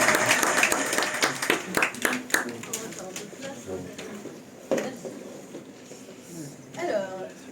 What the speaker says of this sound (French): je vous demande un tonnerre d'applaudissements pour Billy Sidekick